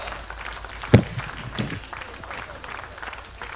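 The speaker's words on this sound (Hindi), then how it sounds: "जोरदार तालियां हो जाए मैम के लिए" Audience applause at the grand finale of a dance show in Seppa, Arunachal Pradesh; a fairly quiet, diffuse clapping wash with one sharp nearby thump early on, heard from some distance.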